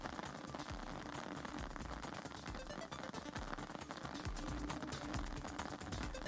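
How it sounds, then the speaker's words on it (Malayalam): Light rain falls steadily over Pathanamthitta town, a dense, even patter of drops on surfaces that holds at a constant low level with no voices. "നഗരത്തിൻ്റെ ചെറിയ തോതിൽ മഴ ഇപ്പോഴും തുടർന്ന് പെയ്യുന്നുണ്ട്"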